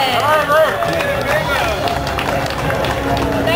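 A crowd at a Harley-Davidson dealership bike-night pageant claps and cheers loudly and steadily, a dense wash of applause with shouts and whoops rising over it throughout.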